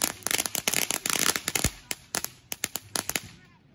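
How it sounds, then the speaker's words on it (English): Firecrackers and fireworks burst during a Fourth of July celebration, a rapid irregular string of sharp cracks and pops, dense at first and then thinning into scattered louder bangs near the end. "Is this a firecracker or a firework? Both."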